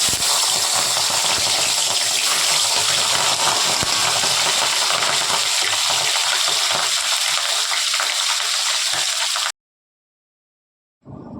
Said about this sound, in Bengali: যতক্ষণ এই মাছ ভাজা হচ্ছে